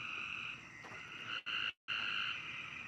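Frogs croaking outdoors after heavy rain, a steady dense chorus of calls that continues throughout, briefly interrupted by a short dropout near the middle.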